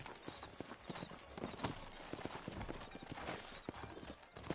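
Horse hoofbeats from riding in the western game Red Dead Redemption, a rapid, uneven clip-clop at a brisk pace that runs throughout, fairly faint and close, with outdoor ambience around it.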